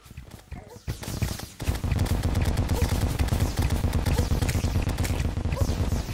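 A pirate captain fires during a pirate invasion in Terraria while players fight back. A steady, rapid patter of shots and hits carries on over busy game noise after a brief quiet opening.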